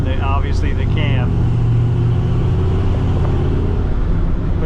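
Loud, steady low rumble of a Krypton green Chevrolet Camaro with an aftermarket cam, running loud at idle, fills the whole stretch while a voice speaks briefly near the start.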